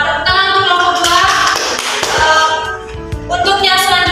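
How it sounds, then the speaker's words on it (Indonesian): A fifth-grade elementary classroom claps for a student group: sharp, scattered hand claps and taps, irregular and close, mixed with children's voices for about four seconds. "Tepuk tangan untuk kelompok"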